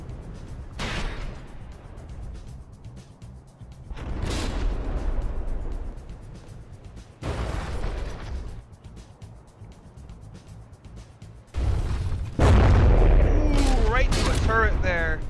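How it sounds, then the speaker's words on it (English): Warship guns fire in the From The Depths naval combat game during a frigate tournament battle, with repeated heavy booming volleys spaced a few seconds apart and a denser burst of firing near the end. "Once again, the Papel getting off those initial shots right away, but not landing anything"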